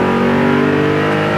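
A restomod 1971 Chevy Nova engine hums steadily at close range, holding a smooth, continuous drone with a slight rising push throughout.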